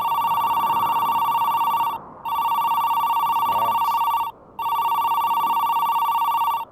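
A telephone bell rings in a video game, loud and close, in three long repeated bursts separated by brief silences.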